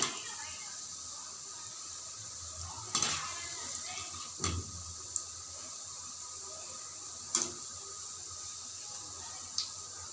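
Gentle sizzle of bread pieces frying in oil over a low flame for gulab jamun, a quiet steady crackle with a few sharp clinks and stirring scrapes breaking through at intervals.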